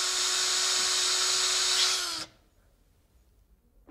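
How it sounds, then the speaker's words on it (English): Power drill whirring loudly and steadily for about two seconds, then cutting off abruptly, followed by near silence and a faint click at the end. "Let's get drilling!"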